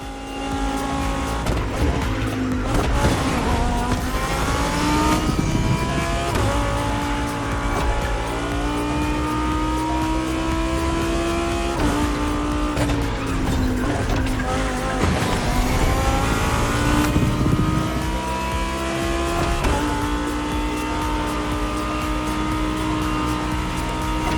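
A racing car in The Crew Motorfest drives continuously, its engine note climbing and dropping through gear shifts, with tyre squeal and skids breaking in, loud and up close with no talk.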